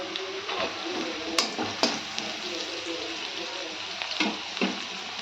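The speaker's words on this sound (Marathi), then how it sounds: "अशा पद्धतीनं तळून आहे कमी गॅसवर चांगला तळून घ्यायचं आहे" Sliced onion fries gently over a low gas flame for egg curry, giving a soft, continuous sizzle broken by a few sharp stirring scrapes and clicks in the pan.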